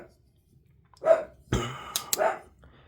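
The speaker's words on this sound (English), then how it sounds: "That's a dog in the background, and he's angry at something." A small, grumpy old dog barks in the background: a couple of short, sharp yaps in under three seconds, with a breathy hiccup-like sound between them, moderately loud against an otherwise quiet room.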